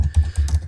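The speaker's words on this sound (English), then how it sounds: "See my slow typing there." Slow typing on a computer keyboard: about four or five separate, close keystrokes at an unhurried, slightly uneven pace, each a crisp plastic click with nothing else heard.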